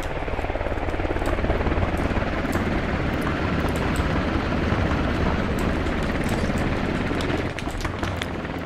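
A helicopter flies overhead in a military video game, its rotor a loud, dense, steady thudding roar that stays close and continuous for the whole stretch.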